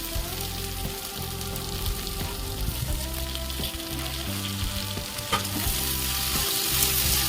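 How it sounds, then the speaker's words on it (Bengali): Okra and tomato fry in spiced oil over a gas flame, giving a steady close sizzle with repeated scraping stir strokes throughout, no voices. "আবার দিয়ে একটু নাড়াচাড়া করে ভাজা ভাজা করে এখন গ্যাসের আজ বাড়িয়ে দিয়েই ভাজা ভাজা করে নিতে হবে"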